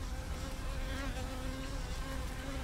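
Honeybees buzz around a nuc hive near a queen cage, a soft continuous droning hum of many insects close by, steady throughout with no voices.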